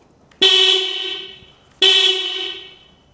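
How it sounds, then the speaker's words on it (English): Stock OEM horn on a BMW R1300GS Trophy motorcycle honking twice, each a sharp, bright, thin blast lasting about a second, heard close with nothing else around it. "So here you go, the sound of the OEM horn."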